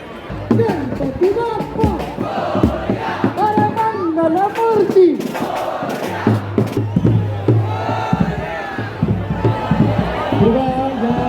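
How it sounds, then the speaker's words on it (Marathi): A large, dense crowd awaits the arrival of the Chintamani Ganpati idol during Ganeshotsav 2024, with loud overlapping voices, shouts and chanting cries rising and falling continuously close by. "तुम्ही बघता एवढी गर्दी आहे आणि गणपती येणार आहे अडीच वाजता"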